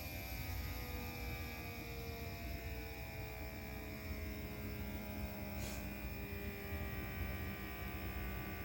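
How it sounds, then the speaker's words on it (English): A handheld FoodSaver vacuum sealer runs steadily close by, a continuous motor hum and whine with a dense low drone that holds at an even level throughout, with no talking. "this is the food saver that I bought, the handheld one. So you know when it's done, when it kind of slows down a little bit."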